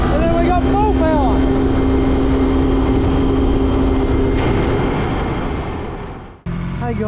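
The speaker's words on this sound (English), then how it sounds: "we're pulling the throttle and it's nice. And as I get towards full throttle" A jet ski engine fitted with a reflashed KSPEED tune revs loud and close toward full throttle, a sustained roar with rising tones before it suddenly cuts out and then picks back up. Someone talks over it.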